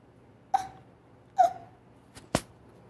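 Several short, sharp hiccups spaced about a second apart, close and fairly quiet against a soft background hum, with no talking.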